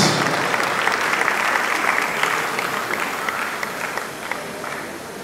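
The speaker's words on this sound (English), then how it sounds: "another round of applause for her, please" An audience applauds at a Lagos fashion award show, with sustained dense clapping and a few sharper nearby claps, slowly easing in level toward the end.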